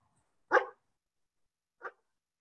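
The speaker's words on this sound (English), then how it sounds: "We can hear a dog barking." A dog barks twice during an online meeting: one loud, full bark, then a shorter, quieter one about a second later, both alone against silence.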